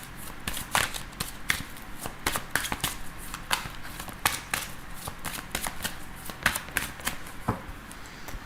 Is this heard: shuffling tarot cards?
yes